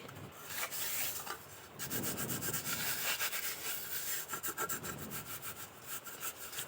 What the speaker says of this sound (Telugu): ప్లేట్ని ఒక ఐదు నిమిషాల పాటు బాగా ఇలా రుద్దుకోవాలి